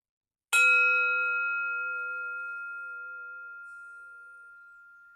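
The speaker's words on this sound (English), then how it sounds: "I'm going to ring the bell" A single meditation bell struck once, a clear bright strike followed by a long, pure ringing tone that fades slowly over several seconds in near silence.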